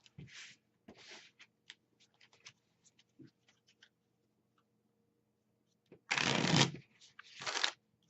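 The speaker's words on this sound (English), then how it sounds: "I gotta shuffle everything up." A deck of Magic: The Gathering cards is shuffled by hand at a table: several quick riffling bursts, scattered soft card taps and clicks, then two louder, longer riffle shuffles near the end, with faint breathing.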